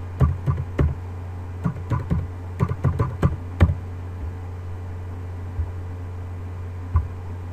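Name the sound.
typing a security key on a computer keyboard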